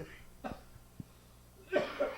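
A man stifles a few short muffled coughs, faint and close, followed by a louder breathy throat sound at the end.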